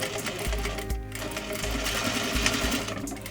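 A sewing machine runs steadily and close, stitching a trouser waist facing up to the front edge, its rhythmic motor hum pulsing through the short stretch without pause.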